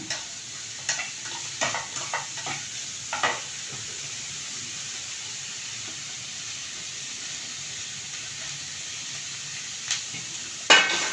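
Grated coconut stirred briefly in a hot pan for a rice-flake and carrot breakfast dish: a soft, steady sizzle with a cluster of scraping stir strokes early on and a few more near the end, with no voices.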